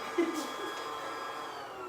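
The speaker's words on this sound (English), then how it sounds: "My vacuum is on again." A household vacuum cleaner runs steadily in the background of an indoor home yoga session, a continuous whirring drone that stays fairly quiet and even throughout.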